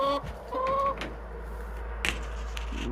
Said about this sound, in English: there's Fox doing that squawking.